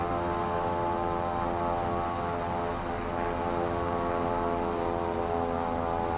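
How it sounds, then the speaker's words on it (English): A propeller airplane engine drones from the cockpit in Microsoft Flight Simulator 2024, a loud, steady, unbroken hum rich in harmonics that fills the whole stretch with no talking. "Why does it sound like that airplane's like in our cockpit?"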